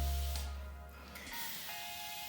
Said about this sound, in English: I spray my whole head.